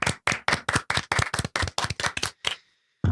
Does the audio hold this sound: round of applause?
yes